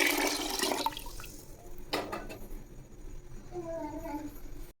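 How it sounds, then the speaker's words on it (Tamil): Three tumblers of water poured over washed parboiled rice in a pressure cooker, a loud rushing gush that tapers into softer trickling, with a voice briefly audible beneath. "அரிசி எடுத்து டம்ளரில் 3 டம்ளர் தண்ணி சேர்த்துக்கலாம்"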